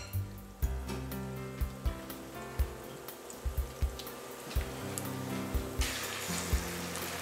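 Salmon patties frying in a pan give a steady crackling sizzle with scattered sharp pops, close and moderately loud, running throughout.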